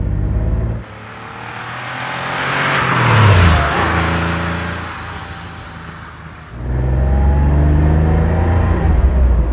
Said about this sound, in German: Zieht schön hoch, sehr drehfreudig, Motor hat einen schönen Sportwagen-Sound.